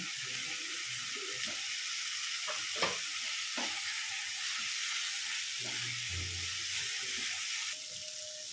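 Fried potatoes tossed into hot oil with turmeric and salt for a Shankar fish masala curry, sizzling steadily while a spoon scrapes and stirs them in short, irregular strokes, close and alone.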